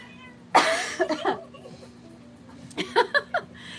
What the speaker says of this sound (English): that's the cat, by the way